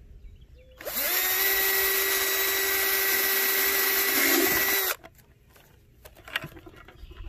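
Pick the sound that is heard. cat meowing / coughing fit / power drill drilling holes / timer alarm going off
power drill drilling holes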